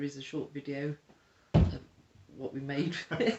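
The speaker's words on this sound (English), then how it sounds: "That was the cat jumping off the windowsill." A cat jumps down from a windowsill indoors, landing with a single short, fairly loud thud that falls in a gap between stretches of talk.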